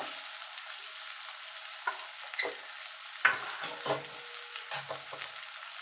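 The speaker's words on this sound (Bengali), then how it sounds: "এবার পেঁয়াজটাকে একটু আমি লাল লাল করে ভেজে নেব" Onions fry in a pan for a Bengali-style chicken kasa with a soft, steady sizzle. Several scraping stirs sound close by, and no one speaks.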